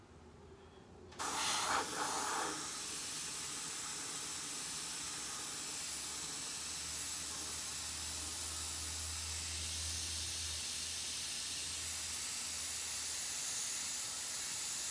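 An airbrush sprays paint in a steady, continuous hiss that starts abruptly and holds close and loud for most of the stretch, with no voices over it.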